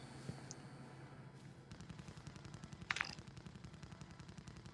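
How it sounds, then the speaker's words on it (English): Distant gunfire rumbles in a battle royale video game, with faint bursts in the background and one sharper crackle near the middle of the stretch. "Gunfire far away."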